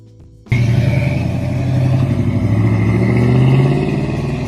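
A 1964 Pontiac GTO muscle car engine bursts into a loud, close rev and holds a deep, throbbing roar that climbs slightly before easing.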